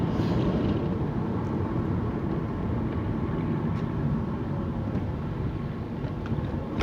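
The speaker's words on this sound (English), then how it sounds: "it's a helicopter. I've been wondering what this persistent sound is." A helicopter passes overhead, heard as a persistent low, broad rumble that stays steady for several seconds with no voices over it.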